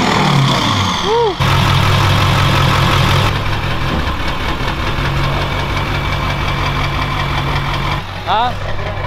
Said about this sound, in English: for some reason my truck sounds like a diesel right now